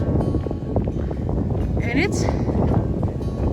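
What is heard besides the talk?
wind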